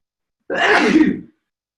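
A single sharp sneeze bursts out, close and fairly loud, then stops.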